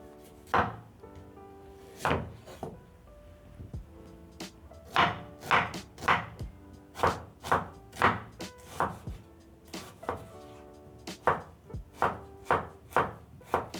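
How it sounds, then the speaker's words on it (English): Knife chopping onion on a board while making samosa filling: a steady run of sharp, close, evenly spaced cuts, sometimes in quick pairs, with brief pauses between bursts and no talking. "Then I'll pick a knife and slice my onion as my oil gets hot."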